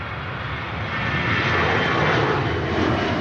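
An EasyJet airliner rotates on its takeoff roll at Manchester Airport, its jet engines giving a loud, steady roar that swells over a few seconds.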